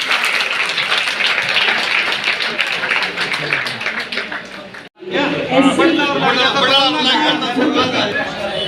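An audience at a stage play performance in Bhiwani applauds in a dense, steady wash of clapping with crowd chatter. A voice speaks over the clapping through the later part.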